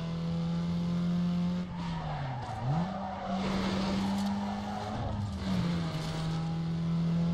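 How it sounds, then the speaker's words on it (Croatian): A racing car engine in Need for Speed Underground 2 drones at a sustained pitch, dipping briefly as it shifts or slides, with tires squealing in places. "Vidiš, ovaj auto zvuči dosta kao Opel, Corsa."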